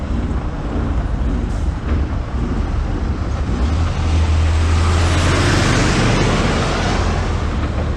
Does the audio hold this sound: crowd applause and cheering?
no